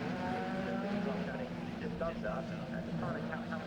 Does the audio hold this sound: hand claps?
no